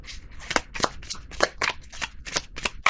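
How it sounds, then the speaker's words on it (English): Tarot cards are shuffled up close in a quick run of about ten crisp, rhythmic riffling bursts. "Now let me shuffle because that wouldn't let me."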